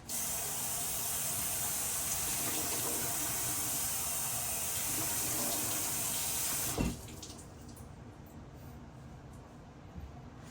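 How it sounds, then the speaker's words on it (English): A tomato being washed under a running kitchen tap, with a loud steady rush of water that cuts off partway through, leaving quieter handling and sink sounds. "I'm gonna wash the tomato."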